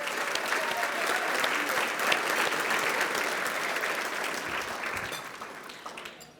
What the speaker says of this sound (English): let's give a big round of applause for our amazing local ski areas